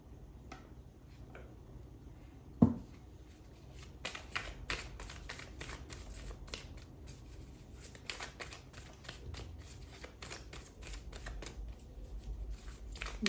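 Tarot cards being shuffled close by: one sharp tap, then a steady run of quick riffling clicks and flutters that continues to the end, quiet and unaccompanied by talk.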